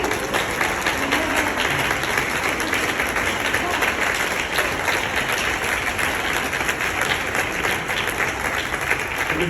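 Sustained audience applause at a talk, a thick wash of many hands clapping at a constant loud level with some crowd voices mixed in throughout.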